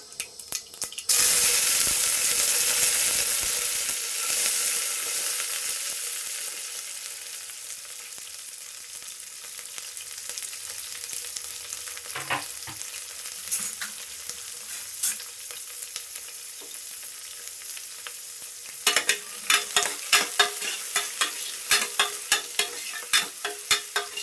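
Sprouted chickpea sambar fries in a pan, opening with a loud, bright sizzle that gradually settles, then turns to repeated scraping and stirring clatter later on, with no voices.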